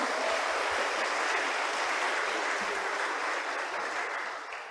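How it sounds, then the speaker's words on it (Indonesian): A seated audience at a new-student welcome event at Institut Teknologi Bandung applauds, a dense, steady wash of clapping from many hands that holds evenly before tapering off at the end. "Jadi kita berikan aplaus untuk semua prodi ya di FTI ya"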